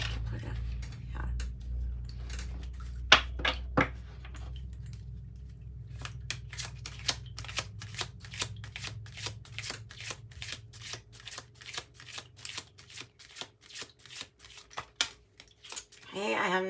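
Kipper oracle cards being shuffled: rapid riffling bursts early, then a long run of quick, evenly spaced card snaps and flicks, close and crisp over a low background hum.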